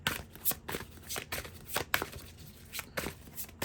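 Tarot cards shuffled by hand, a quick run of soft riffling and slapping bursts repeating in an irregular rhythm, close and fairly quiet with no talk.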